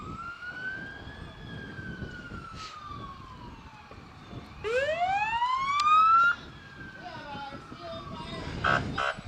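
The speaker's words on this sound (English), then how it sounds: "More sirens coming from the Steele Fire Department." Steele Fire Department fire truck sirens wail through a Christmas parade, rising and falling, with a louder whooping sweep partway through, heard over street crowd noise and an announcer talking.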